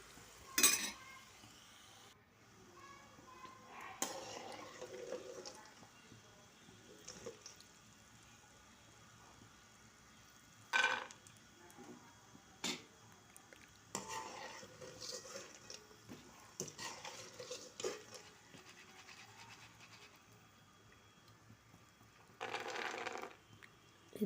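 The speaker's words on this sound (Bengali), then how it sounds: "এই তো আমি বাদামগুলো পরিষ্কার করে বাদামগুলো আমি ভেজে নিয়েছি।" Peanuts stirred in a frying pan on a home stove, with a spoon scraping and clinking against the metal in scattered bursts and a faint sizzle underneath, fairly quiet and with no voices.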